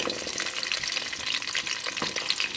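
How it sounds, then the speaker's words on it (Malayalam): Small onions sauté in coconut oil in a pan for chicken curry, a soft crackling sizzle with light stirring scrapes, fairly faint and close, with no talking. "ചെറിയ ഉള്ളി ഇട്ടൊന്ന് വഴറ്റാം."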